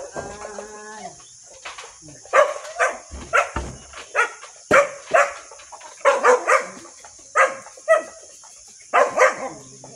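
Farm dogs bark repeatedly at feeding time in the countryside, sharp close barks arriving in quick bursts for several seconds, with a few whimpers and softer yaps between them.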